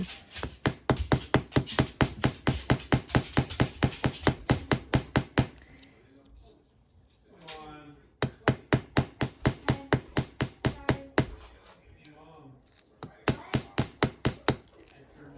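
Hammer blows flattening metal for a riveted journal cover: rapid, evenly spaced sharp ringing strikes in three bursts, close and loud, with brief pauses of quieter handling between.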